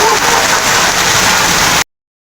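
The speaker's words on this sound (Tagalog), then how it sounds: "Grabe lakas ng ulan, ang dilim mo." Heavy typhoon rain in Quezon City pours in a dense, steady hiss, loud and close, then cuts off abruptly.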